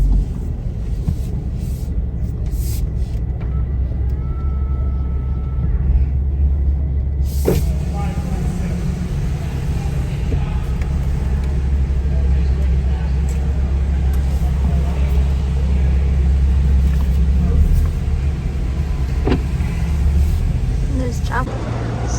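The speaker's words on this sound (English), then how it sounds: "There's traffic." Street traffic on a Glendale road, cars and buses passing, heard as a steady low rumble that swells and fades with a brief hiss, while people talk nearby.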